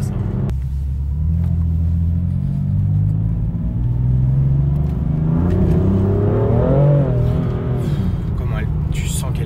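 A BMW M4 Competition engine roars loudly and steadily as the car accelerates hard, its pitch climbing and then dropping with a gear shift around the middle, followed by a rising rev. A continuous heavy rumble fills the whole clip.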